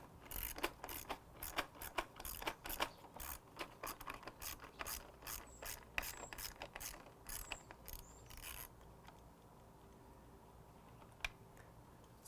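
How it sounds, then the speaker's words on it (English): A ratchet is turned to back a screw out of a pool cleaner. It makes a fast series of close, crisp clicks over about eight seconds, then stops, leaving a quiet stretch with one final click. "Take our ratchet. You can use a nut driver as well,"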